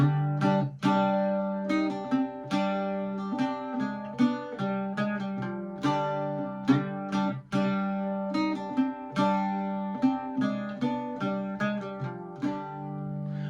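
An Irish bouzouki picks a steady melodic riff with extra ringing open strings droning beneath, each note attack clear and close, playing alone without talk.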